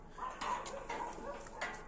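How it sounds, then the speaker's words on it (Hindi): A dog barks over and over from upstairs, sounding slightly distant, with short sharp yaps and whimpering tones in a steady run. "और स्नोई ऊपर बहुत ज्यादा भौंक रही है बहुत देर से"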